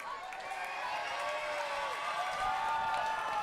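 A wrestling crowd at a tag-team match in Bryan gives off a steady, moderately distant roar of cheering and clapping, fairly quiet and continuous without sharp peaks.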